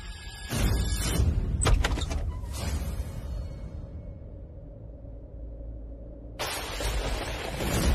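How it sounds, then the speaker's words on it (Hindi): A door being opened in a TV drama scene: clattering thumps and a rattle up close, then a sustained low hum and rumble before a broad noisy swell returns. "आप ही दरवाजा खोलिए"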